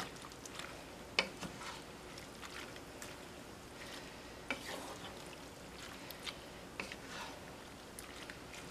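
A shrimp stir-fry cooks down in a pan, giving a faint, low sizzle with occasional soft taps and stirring scrapes scattered throughout; no talking.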